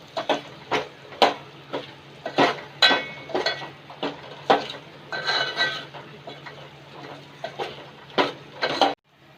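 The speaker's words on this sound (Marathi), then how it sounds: "1 ते 2 मिनिटं चांगले बटाटे तेलामध्ये परतून घ्यायचे" Raw potato pieces are turned in oil over a low flame, with repeated metallic scrapes and clinks of a spatula against the pan in uneven bursts, close and distinct, ending abruptly.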